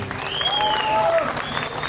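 Applause from a concert crowd for a Polish band at their 40th-anniversary stage show, with loud whistles and cheering cutting through the clapping.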